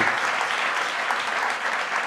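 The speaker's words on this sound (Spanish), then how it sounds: "Y ahí deberían de aplaudir" Steady applause from a crowd, a dense wash of clapping filling the whole stretch at an even, fairly loud level.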